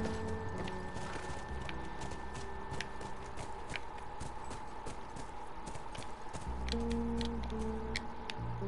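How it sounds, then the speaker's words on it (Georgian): Horse hooves clip-clop steadily while riding in The Last of Us video game, a continuous rhythmic clatter of hoofbeats over background ambience. "Ძალიან არასასიამოვნო სატარებელი აქ ცხენი."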